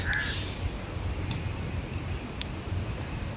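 Crows caw a few times amid the steady city din near KL Tower and Central Market in Kuala Lumpur, the calls brief, fairly faint and spread over a broad outdoor wash.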